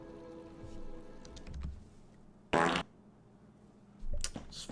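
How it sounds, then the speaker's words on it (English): A short, loud fart noise blares in a video game stream, a single burst standing out over quiet game ambience, with a second burst near the end. "It's fart noise."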